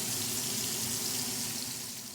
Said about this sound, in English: That's what you want to hear when you put your steaks onto your pan.